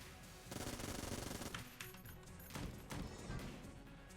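Rapid automatic gunfire in the video game Enter the Gungeon, dense bursts of shots with a short break in the middle, steady and fairly loud with no talk over it.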